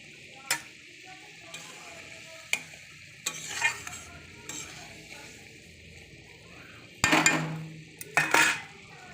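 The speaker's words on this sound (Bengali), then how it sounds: "দেখো আমার ঝোল ফুটে গেছে" Chandana hilsa curry with mustard paste, tomato and coriander simmers in a pan, a low steady sizzle broken by several sharp spoon scrapes and metal knocks against the pan, louder toward the end, with no voices.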